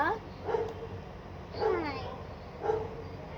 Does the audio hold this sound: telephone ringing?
no